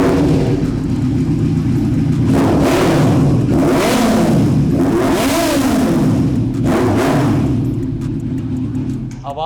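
A Ducati Panigale superbike fitted with an SC Project exhaust idles loudly, then is revved hard several times in rising and falling roars, close by, with voices underneath.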